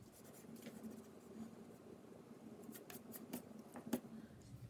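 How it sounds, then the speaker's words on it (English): A pencil self-portrait drawing is erased with an eraser, producing soft, faint rubbing and brushing strokes in a quiet room, with a few brief sharper swipes. "I can go back and erase that now."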